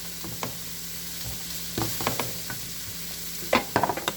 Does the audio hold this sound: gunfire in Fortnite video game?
no